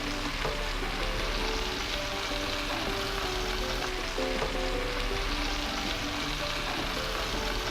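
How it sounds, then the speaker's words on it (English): Lionfish dry fries in a hot pan West Indies style, a constant dense sizzle and crackle steady throughout with a faint low hum underneath. "We like to dry fry our fish in the West Indies."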